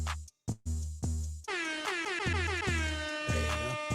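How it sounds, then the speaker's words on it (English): Air horn sound effect blaring loud and alone in a series of short, stuttering blasts that break into a long, sustained honk with shifting harmonic tones. "Let me give you a little air horn for the Friday."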